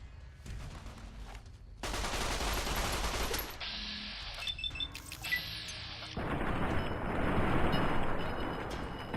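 Gunfire in the Fallout: New Vegas video game comes as dense, sustained bursts of automatic shots and booming blasts. Louder stretches alternate with brief breaks, and there is little talk over it.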